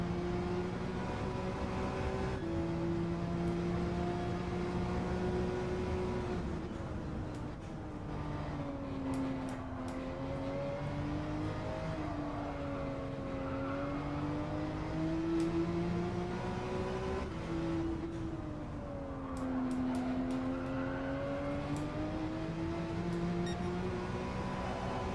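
Sim race car engine in Gran Turismo 7 held at high revs through a night drift at Spa, a steady loud drone whose pitch sags and climbs as the car slides, continuous for the whole stretch.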